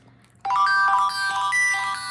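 A phone alarm clock bursts on loudly after a quiet moment, a bright electronic melody of repeating high tones playing continuously and close, with no talking over it.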